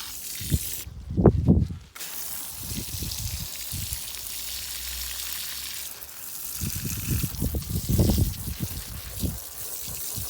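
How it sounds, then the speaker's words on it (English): Water is poured onto moist garden soil close to a plant's root, giving soft splashing and trickling in uneven bursts, near and fairly quiet, with no talk. "So again, I just water the soil close to the root."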